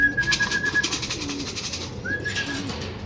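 Pigeons at a racing club training release, with soft coos and bird calls running under steady outdoor background noise, a whistle-like tone coming and going.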